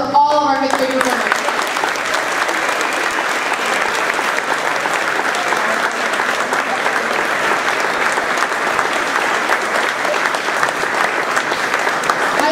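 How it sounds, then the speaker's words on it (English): A school audience gives a long round of applause for fifth-grade performers at a winter instrumental concert, dense steady clapping that lasts over twelve seconds after a brief voice at the start. "Can I have one more round of applause for all of our 5th grade performers?"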